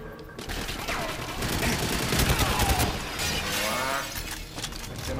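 Rapid gunfire in GoldenEye 007 at St. Petersburg archives, dense bursts mixed with shattering glass and impacts, loud and sustained with brief shouts in the mix.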